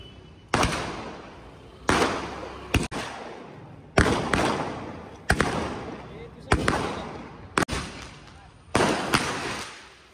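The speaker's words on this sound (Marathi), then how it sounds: "फटाके" Firecrackers burst at an outdoor ring ceremony, about eight sharp, loud bangs spaced a second or two apart, each followed by a short decaying rumble.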